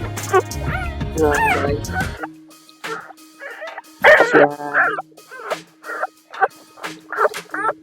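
Female dogs and their puppies at a farm yard give high yips, whimpers and small barks in scattered bursts, close by, with people talking at the start.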